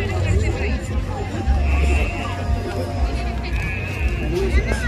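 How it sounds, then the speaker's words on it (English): Sheep bleat repeatedly at a rodeo mutton busting event in Canada, the calls rising over a noisy crowd and chatter close by. "This is one of the top bucking sheep in Canada."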